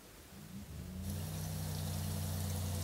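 A TeeJet twin-fan pesticide sprayer nozzle spraying water: a pump hum builds, then a steady loud hiss of the spray jet starts abruptly and runs on continuously.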